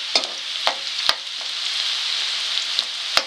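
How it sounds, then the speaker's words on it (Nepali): Onions sizzle in hot oil for aalu tama, a bright steady hiss punctuated by several sharp pops and crackles at irregular intervals, close and fairly loud. "अब म यसमा प्याज राखेँ. यसलाई फ्राई गर्छु."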